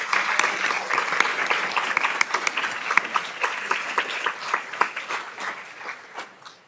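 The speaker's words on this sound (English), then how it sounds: "Let's give them a round of applause." A crowd at a school board of education meeting applauds steadily, a dense patter of clapping that thins and fades toward the end.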